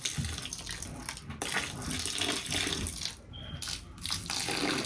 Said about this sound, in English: Gotta add a little bit more water.